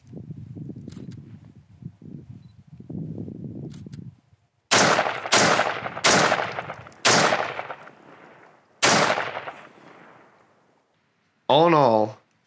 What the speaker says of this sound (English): We finished out the day with her getting a few shots in with Casey's AR-15